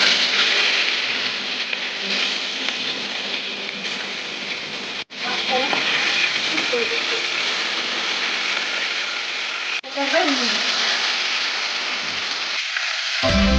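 Spices fry in hot mustard oil with a loud, dense, continuous sizzle. It breaks off abruptly twice and briefly crackles as the spices are stirred, then cuts away near the end.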